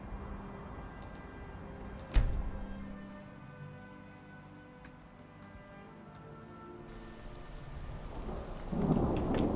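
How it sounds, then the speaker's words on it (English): Steady rain patters throughout in Skyrim, with a sharp crack of thunder early on and a low rumble building again near the end. "Oh, it's raining."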